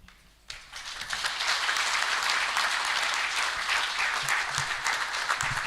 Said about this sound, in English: A round of applause again for them.